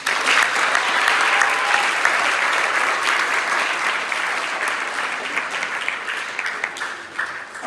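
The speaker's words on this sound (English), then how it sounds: "we'll give them 2 claps as well" Sustained applause from a school assembly audience for the runner-up boys tennis team, dense steady clapping that fills the room from start to finish and tapers slightly toward the end.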